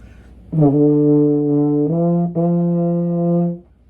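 A euphonium plays a few sustained low notes in a dotted rhythm, a long tone followed by two shorter separated ones, clear and close with no talking.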